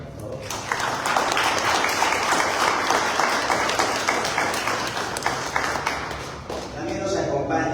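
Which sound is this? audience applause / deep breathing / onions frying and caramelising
audience applause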